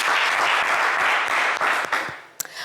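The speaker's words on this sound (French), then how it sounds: "Allez, pas mal Cédric, on vous applaudit." Studio audience on a French TV game show breaks into loud, dense applause that holds steady, then thins out and tapers off near the end with a few last claps.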